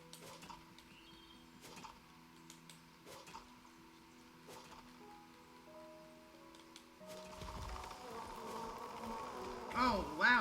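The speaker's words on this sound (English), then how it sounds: "Oh, wow, we got bees." Buzzing bees in the video game Len's Island, a steady insect drone with broad crackly texture that thickens and grows louder toward the end, with no talk over it.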